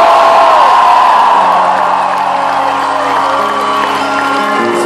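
A large concert crowd at a show in Prague roars and cheers continuously, a loud, dense wash of whoops and yells sustained throughout without a break.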